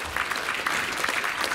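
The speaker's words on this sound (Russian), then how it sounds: "этими аплодисментами мы провожаем оркестр русских народных инструментов." A concert hall audience applauds a Russian folk instrument orchestra, a dense, steady wash of many hands clapping at moderate volume for the whole brief stretch.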